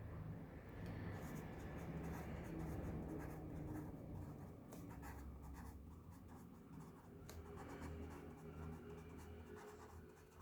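Pen writing during a lecture on plant tissue, faint continuous scratching strokes close to the microphone, with no one talking.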